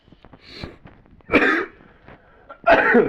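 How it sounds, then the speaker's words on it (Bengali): A person coughs twice in close, dry bursts, separated by a short pause, with quiet breathing before and between them. "একটু কাশি হয়েছে"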